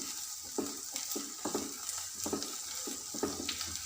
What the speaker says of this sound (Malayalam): ഇനി ഇത് നമ്മൾ നന്നായിട്ടൊന്ന് വഴറ്റി കൊടുക്കുക